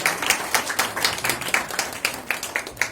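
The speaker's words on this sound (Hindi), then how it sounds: "उनके लिए भी जोरदार तालियां" An audience claps for students' parents at a speech event in a hall, uneven individual claps sounding close and moderately loud in a brisk, irregular patter without talk.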